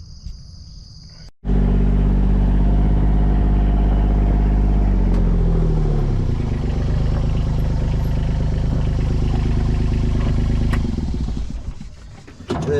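Kubota excavator (57 VMC EXG42) running a brush cutter attachment through small grass and brush: a loud, continuous engine and cutter drone that rises suddenly, shifts in pitch and stays close throughout, without talking.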